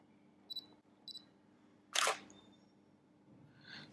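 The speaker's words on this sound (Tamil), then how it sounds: "இப்போ நான் வந்து அப்பர்ச்சர் 8ல வச்சு ஒரு ஃபோட்டோ எடுக்கிறேன்" DSLR camera shutter firing once, a sharp loud mechanical clack near the middle, preceded by two faint electronic beeps and followed by a quieter whirring tick in an otherwise quiet room.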